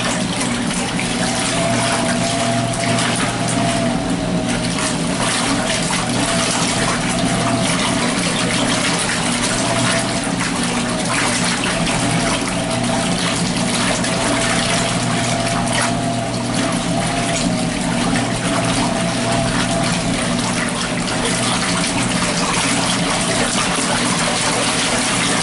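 A Laundry Alternative Superpop washing machine runs its wash cycle, its impeller churning and sloshing water with a steady motor hum, loud and continuous, without pauses.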